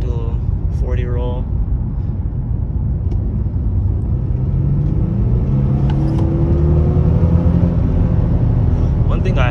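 An Infiniti G37 in sport mode accelerates from about 40 mph, with a steady engine rumble and road roar that rises in pitch as it pulls. The sound is heard from inside the car, loud and continuous.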